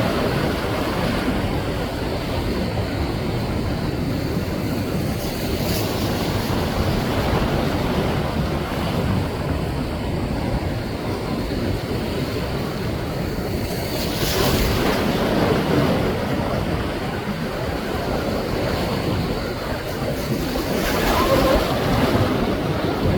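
Ocean waves wash steadily onto coastal rocks, a continuous close roar of surf with swells building and receding, wind buffeting the microphone throughout.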